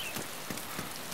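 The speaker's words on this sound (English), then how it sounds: "it rains a lot of the time on this, doesn't it?" Rain in the DayZ video game: a steady hiss of falling rain with soft, scattered drop patters, constant and close, with no talking.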